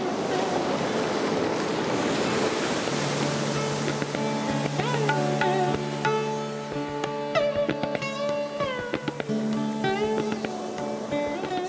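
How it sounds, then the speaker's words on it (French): Ocean waves roll and crash onto sand in a constant roaring wash with wind, while sustained musical tones rise and hold over the surf. "Des vagues, surgissant de nulle part, rugissant et s'écrasant sur le sable"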